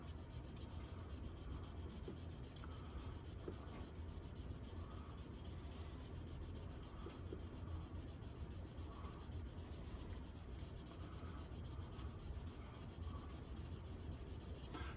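Bare metal foil is burnished over car emblem letters with a soft tool, a faint, close, steady rubbing with back-and-forth strokes changing direction, alone and quiet throughout.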